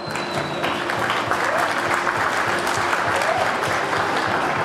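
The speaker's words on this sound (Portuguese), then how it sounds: "Salva de palmas, por favor." An audience at an awards ceremony claps steadily, a dense continuous wash of applause from many hands, sustained and even throughout.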